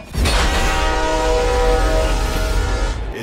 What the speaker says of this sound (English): all of a sudden the camera zooms in and you hear this shrill train horn